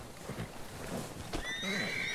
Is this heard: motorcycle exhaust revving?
no